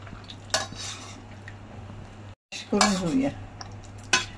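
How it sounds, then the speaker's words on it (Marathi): Pressure-cooked vegetables for pav bhaji mashed in a pot, a few sharp metallic clanks and scraping squelches of the masher, with a brief dropout midway and a low steady hum beneath. "भाज्या बघा छान शिजले. आता हे स्मॅश करून घेऊया."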